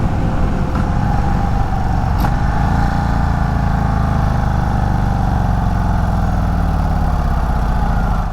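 An Indian Chief Bobber Dark Horse, a heavy big-twin cruiser, holding freeway speed, with a steady, loud engine drone under constant wind rush and no voices.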